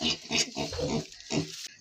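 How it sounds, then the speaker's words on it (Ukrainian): A pig grunts in short bursts with an uneven rhythm in a rainy village farmyard, close to the microphone and with no voices. "Свинка бігає, все добре."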